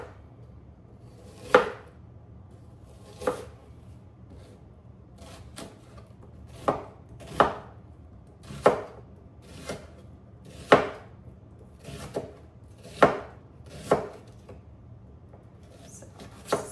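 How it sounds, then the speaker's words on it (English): An onion being sliced with a knife on a cutting board, with about a dozen distinct, irregularly spaced chops landing close by in a quiet kitchen. "Slicing 1 onion"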